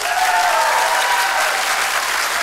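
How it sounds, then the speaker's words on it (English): Theatre audience at a stage magic show claps in a dense, sustained burst to cast a vote, a loud, even wash of applause with no talking over it. "So applaud if you think it's in box number one."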